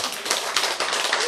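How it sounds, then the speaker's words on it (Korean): An audience at a Korean health lecture claps in a brief, brisk burst of overlapping hand claps at moderate distance. "이제 이렇게 되면 여러분 박수 한번 쳐야 돼요."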